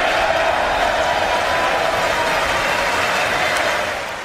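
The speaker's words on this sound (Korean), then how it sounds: "공화당은 박수를 쳤고" Republican lawmakers applaud during Trump's State of the Union address, a steady, dense wash of clapping from a large chamber that holds even for several seconds before easing slightly at the end.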